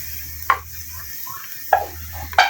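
Garlic goes into a hot pan for beef pilau, giving a faint steady sizzle broken by three sharp scrapes of stirring.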